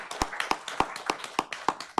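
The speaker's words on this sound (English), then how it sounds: "if we could give Larry a round of applause for the great design" A small group at a town council meeting claps in a steady, sparse rhythm, with each clap distinct and fairly close, no voices over it.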